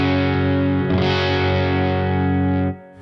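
Electric guitar through a 29 Pedals EUNA pedal, a thick, distorted, effects-laden chord ringing loud and sustained, swelling brighter partway through before cutting off near the end, with no talking.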